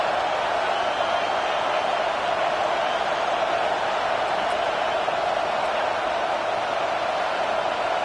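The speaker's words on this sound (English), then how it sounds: "Decibels rising as the crowd gets behind this defense on third down" Steady, dense roar of a football video game stadium crowd building on third down, a continuous wash of noise holding level throughout without breaks.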